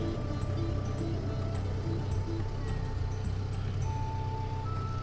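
A Mahindra Roxor off-road vehicle idles and backs up slowly, its engine a steady low rumble throughout with faint intermittent tonal beeps over it, close and continuous with no talking.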